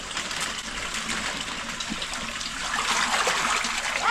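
Water gushes and trickles from the tank of a fish stocking truck during the release of farm-raised channel catfish into a pond, a steady close splashing stream that grows slightly louder near the end.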